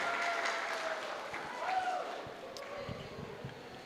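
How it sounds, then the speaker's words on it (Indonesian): Applause from parents at a vocational high school graduation farewell in Indonesia, a scattered crowd clapping at moderate distance and thinning out toward the end, with a faint voice in the hall. "Tepuk tangan dulu Bapak Ibu."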